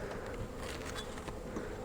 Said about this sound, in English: See these bees flying around here?